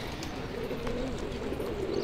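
Kagzi pigeons coo steadily in low, rolling tones, a continuous soft murmur with no voices.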